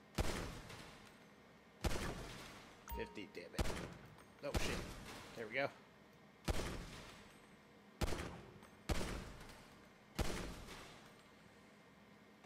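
Gunfire at shooting range targets in GTA V: eight or so separate sharp shots spaced a second or two apart, loud and close, with someone talking between them.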